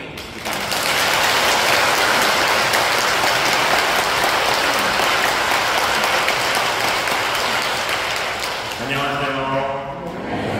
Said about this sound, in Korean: 큰 사랑과 격려와 응원의 박수로 환영해 주시기 바랍니다